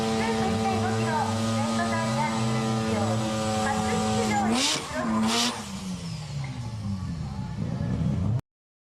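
KSP Engineering FC RX7 twin-turbo drag racing car with twin 3037S turbos and an HKS 6-speed transmission, its engine revving hard through rising and falling pitches, with brief bursts of noise as it shifts before cutting off abruptly.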